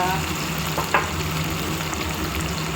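Ingredients for a Chittoor-style field bean curry frying in a pan, a dense steady sizzle close up with one brief scrape of stirring near the start and no voices.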